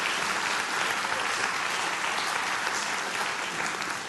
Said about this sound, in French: On l'applaudit ensemble.